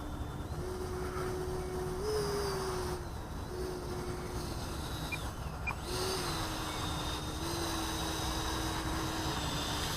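An E-flite Viper RC model jet flies overhead with a steady whining turbine-like tone that rises and dips slightly as it passes, moderately distant and continuous throughout.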